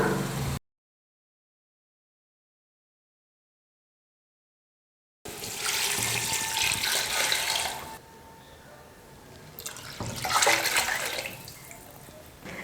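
Water runs and splashes steadily into a cooking pot for mutton biryani, starting after a silent gap, with a brief drop in flow before surging again.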